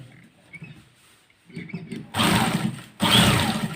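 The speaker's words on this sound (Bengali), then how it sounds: "আপনারা দেখেন আমি কীভাবে সেলাই করতেছি" A sewing machine stitches a Kallidar Punjabi garment in two bursts of about a second each, close and fairly loud, after a stretch of faint handling noise and low speech.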